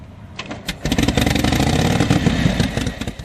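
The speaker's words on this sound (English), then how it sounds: "a World War II era military police motorcycle" An old World War II era military police motorcycle engine sputters to life and settles into a loud, rapid, uneven putter, close by with no voices.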